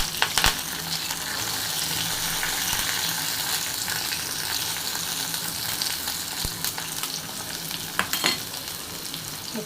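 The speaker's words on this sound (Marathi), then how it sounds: "आता त्याच्यामध्ये कांदा टाकूया आणि कढीपत्त्याची 4 पाकळी." Onion and curry leaves fry for a prawn curry, giving a steady, loud sizzle with occasional stirring clatter and sharp spatters throughout.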